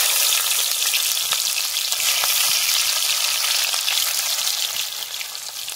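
Chopped onions sizzle in hot oil for a rohu fish curry, a steady bright hiss held at even loudness throughout, with faint crackles and no voices.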